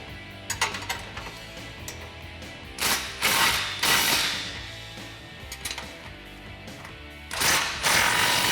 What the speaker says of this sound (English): Now we can tighten up our flange using a 16mm socket and a 16mm wrench.